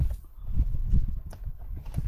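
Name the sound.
horse moving, hooves stepping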